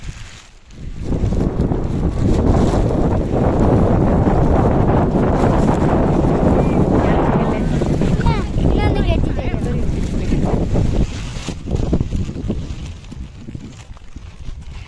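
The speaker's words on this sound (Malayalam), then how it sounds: "എന്താ കാറ്റ്" Strong wind roars continuously across an open hilltop at Kurishumala, Kakkadampoyil, buffeting the microphone loudly throughout, with faint voices and distant calls briefly audible beneath the gusts.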